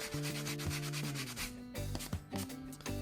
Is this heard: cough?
no